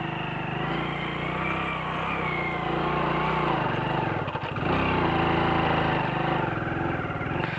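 A motorcycle engine revs steadily while the rider slips a half-engaged clutch, producing a loud, close, continuous droning note that wavers briefly partway through.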